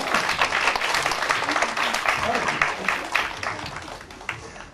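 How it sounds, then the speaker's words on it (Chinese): An audience at an exhibition talk applauds, dense clapping at moderate loudness that starts strong and gradually tapers off, with some voices mixed in beneath. "有掌声吗？"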